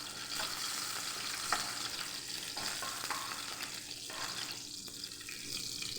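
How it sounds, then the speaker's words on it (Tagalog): Sautéing in a pan while making a chickenless menudo, a soft, steady sizzle and hiss with faint scraping, fairly quiet and without voices. "Magigisa na ako."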